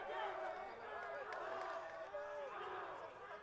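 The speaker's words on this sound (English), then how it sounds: "Everybody's cheering for JJ right now, rightfully so." Crowd at a high school baseball game cheering and clapping in a steady, loud roar, with a person talking over it.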